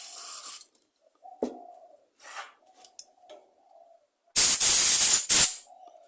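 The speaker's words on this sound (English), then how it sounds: "Take your cleaner, and give that a good blast in there." Carburettor cleaner sprays into a Walbro carburettor from a leaf blower in two sharp, loud hissing bursts close up, preceded by small clicks and handling noises in near silence.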